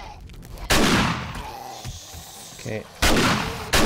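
Loud gunshots in the 7 Days to Die zombie-horde game, a couple of heavy booming blasts with long decaying tails separated by a quieter stretch, and a brief voice in between.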